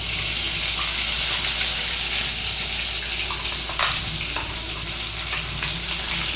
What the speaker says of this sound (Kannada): ಇದು ಹಸಿ ಹೋಗೋವರೆಗೆ ಏನು ಮಾಡಬೇಕು, ಚೆನ್ನಾಗಿ ಫ್ರೈ ಮಾಡಬೇಕು